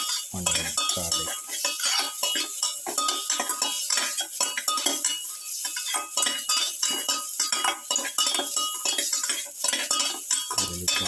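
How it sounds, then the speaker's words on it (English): Tomato pieces sautéed with onion and garlic while a pilaf is being made, with steady stirring and clinks of a utensil against the pan over a faint background sizzle. "Saute the tomato pieces together with the onion, garlic."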